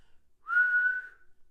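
A person whistles one sustained, fairly loud note in a quiet setting, with a slight pitch glide over about a second and no talk around it.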